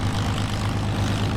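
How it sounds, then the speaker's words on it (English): A P-51D Mustang warbird passes the tower at the Duxford summer airshow, its piston engine a loud, steady, low propeller drone that fills the brief moment without pause. "passing the tower with the Mustang"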